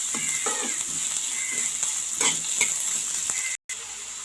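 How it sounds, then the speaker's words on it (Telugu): Onions and green chillies fry in a pan with a continuous bright sizzle and occasional stirring scrapes, close up, with a brief dropout near the end. "ఆనియన్స్, పచ్చిమిర్చి, కొంచెం ఫ్రై చేసుకోవాలి."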